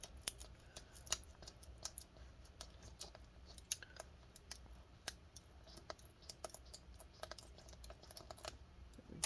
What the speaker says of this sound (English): We need to peel this tape out.